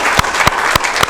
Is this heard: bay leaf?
no